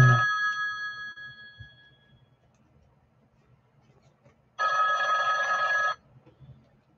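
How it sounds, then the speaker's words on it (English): A telephone rings twice, each ring a loud, bright electronic trill lasting about a second, separated by a few seconds of near silence with faint small ticking sounds in the background. "My phone ain't rung in days and it's now it wants to ring"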